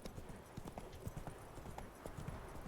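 Hoofbeats of the horse Roach in the video game The Witcher 3, a faint, quick, regular clip-clop of trotting hooves running throughout.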